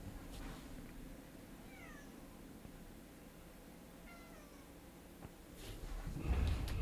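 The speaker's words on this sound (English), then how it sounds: "Cat's going crazy." A cat gives a couple of brief meows, faint and slightly distant, over a low room hum with a bump of handling noise near the end.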